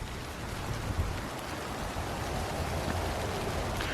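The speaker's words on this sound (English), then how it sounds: "I should get a bucket and try and capture some of this rain as it's coming down" Heavy monsoon rain pouring down outdoors during a storm, a dense, steady hiss of drops striking surfaces that stays close and even throughout, with no voices or other sounds.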